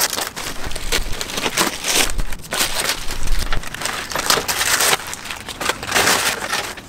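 Car front splitter for a Mark 8 Fiesta being unwrapped from its packaging, with loud, close crinkling and crushing of wrapping material in irregular bursts throughout.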